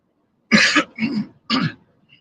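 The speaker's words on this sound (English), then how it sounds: "Sorry, gotta clear my throat here." A man clears his throat in three short, rough bursts, close to the microphone, with brief pauses between them.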